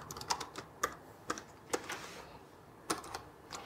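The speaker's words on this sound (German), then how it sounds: "Und dann kann ich da drunter weiter tippen." Keys clatter on an American-layout computer keyboard in irregular bursts of crisp clicks, some louder strikes standing out, close by with no talking.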